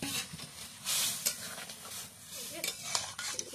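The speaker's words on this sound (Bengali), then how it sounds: "এখানে বৌদি ছোলার ডালটা ঢেলে দিলাম" Chana dal tipped into a hot pan and stir-fried for a festive home meal, giving soft scraping stirs and light sizzling with a clink of utensil on metal, close and fairly quiet.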